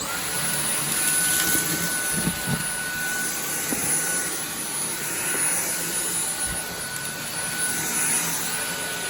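A Dyson vacuum cleaner runs over carpet with a loud, continuous whine and rush of airflow. It stays close and steady throughout, with only small dips and a few light bumps as it moves.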